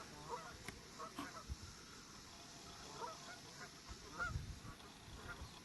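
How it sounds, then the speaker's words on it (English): A large flock of geese honks in scattered, overlapping calls at a distance over open water on a reservoir, the sound faint and steady against a quiet outdoor background. "And a big goose party up there."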